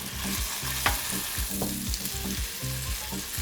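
A chicken wrap sizzles seam side down in butter in a skillet, a steady loud frying hiss with rhythmic stirring or scraping pulses throughout, no talking.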